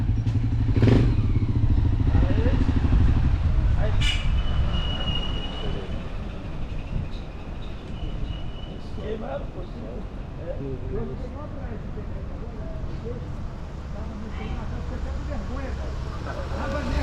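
A vehicle engine climbs a steep road in the Rocinha favela in Rio de Janeiro, Brazil, starting with a loud rumble that settles into a steady hum with rattles and thumps. Someone talks throughout.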